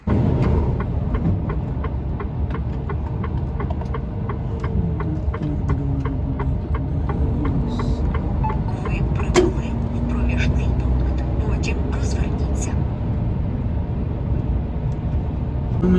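A loaded truck hauling a trailer drives out after a furniture delivery, with a steady low engine drone and throbbing cab hum throughout, plus faint ticking and occasional clunks.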